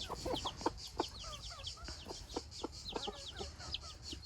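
Chicks eating cucumber cheep repeatedly in high, quick peeps, with occasional clucks from fowl and light pecking taps, quiet and steady throughout.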